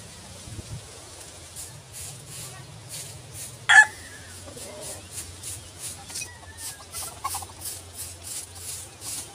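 Backyard chickens cluck and gobble faintly in a rural province yard, soft scattered calls over a low hum, with one brief sharp knock partway through.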